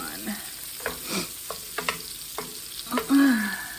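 Onions brown in a pan for coq au vin, a continuous sizzle punctuated by repeated scrapes and stirs of a utensil, with a brighter squeaky scrape toward the end, all close and without voices.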